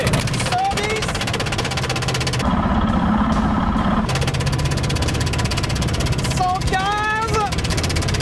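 A car rolling on snow chains at about 110 km/h gives a loud, steady rumbling drone with harsh vibration throughout, and voices talk over it at the start and end.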